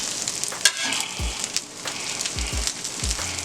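Hash brown omelettes with cheese frying on a Steelmade griddle give a steady, close sizzle, with a few soft knocks and scrapes from a spatula on the flat top.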